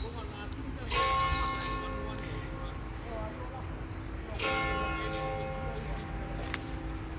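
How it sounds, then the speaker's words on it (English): Church bells ring out at St Pancras Old Church in London, two distinct bursts of resonant tolling rising over faint outdoor ambience, fairly distant and moderately loud. "Bells are going."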